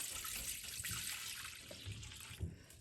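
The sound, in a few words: water being poured into chutney while cooking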